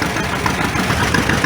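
A vintage John Deere tractor engine chugs steadily close by during an old engine show parade, a continuous low idling throb.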